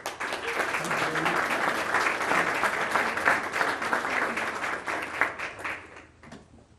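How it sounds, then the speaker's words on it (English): Sustained round of applause from a crowd at a city council meeting in Menifee, steady dense clapping throughout that tapers off at the end. "one more round of applause"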